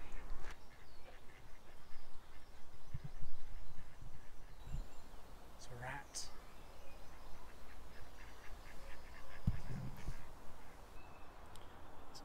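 A mandarin duck quacks a few times at moderate distance against an outdoor background, with the short calls scattered through the recording along a countryside route in South Devon.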